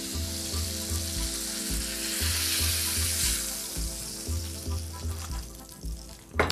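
A burger fries in fat in a pan, giving a loud, continuous close sizzle with a bright hiss and faint low bubbling knocks underneath. There is no speech over it.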